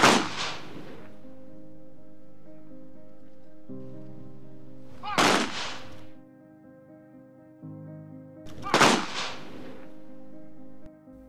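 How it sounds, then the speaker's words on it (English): Three rifle volleys fired at a military funeral, each a sharp loud crack several seconds apart that rings out over a low sustained musical tone. "Shots rang out in three volleys."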